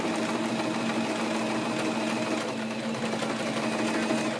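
A home sewing machine stitches steadily, its motor hum and needle action running continuously and close at a constant level throughout.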